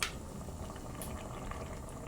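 Water at a rolling boil in a covered cooking pot over a strong flame, a steady, faint bubbling and churning texture that holds without a break.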